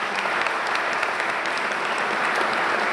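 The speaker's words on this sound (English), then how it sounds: "If you could join me in a round of applause for our police leadership" A seated audience at a Jersey City police swearing-in ceremony claps for police leadership in dense, steady applause that holds at an even level throughout.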